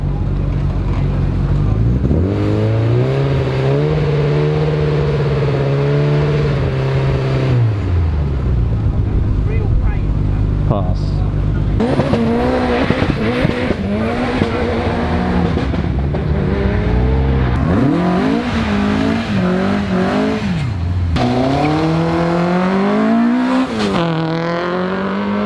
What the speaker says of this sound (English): Noise testing going on here.